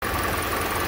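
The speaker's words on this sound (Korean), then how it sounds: "2013년형 엔진입니다. 엔진 소리, 네, 좋습니다." A 2013 Kia K5 engine runs at a steady idle, heard close and fairly loud as an even, low hum through a brief moment.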